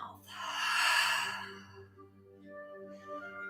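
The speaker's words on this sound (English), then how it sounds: "So we'll inhale through the nose and then exhale through the mouth." A single slow cleansing breath during a yoga class, a soft airy inhale through the nose swelling then easing, followed by a quieter exhale through the mouth, close and alone.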